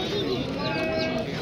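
Pigeons coo in a low, continuous murmur at the Galiff Street pigeon market in West Bengal, blended with crowd noise and nearby voices in a brief stretch.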